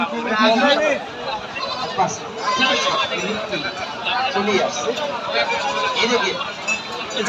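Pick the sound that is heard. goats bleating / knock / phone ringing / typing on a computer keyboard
goats bleating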